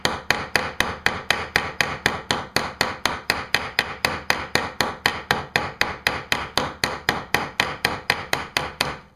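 The rounded back of a ball peen hammer mashing the edge of a PVC machete sheath, in a fast, steady run of sharp, loud, close strikes, about four per second, with no talking.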